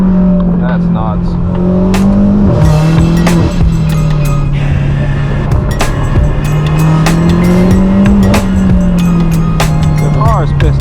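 An 800 hp BMW M8 Competition at a supercar meet, its exhaust blaring in a loud sustained drone with shifting pitch while tires squeal and chirp over it, close and constant for the whole stretch.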